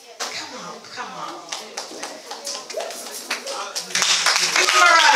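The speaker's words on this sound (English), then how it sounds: "Give them a round of applause." Guests at a gospel ministry black tie dinner clap in scattered taps that build into fuller applause near the end, with people talking over it.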